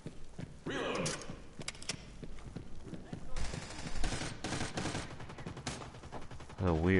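Gunfire in the video game America's Army, a string of clattering shots and thuds over a busy game soundscape, moderately loud, with some voice in the mix.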